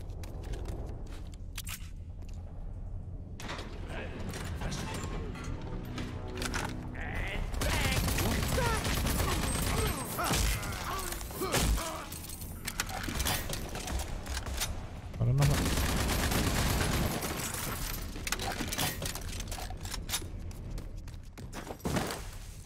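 Bursts of gunfire from the video game Rage 2 crackle loudly and near-continuously, with rapid volleys and dense peaks mixed with game effects.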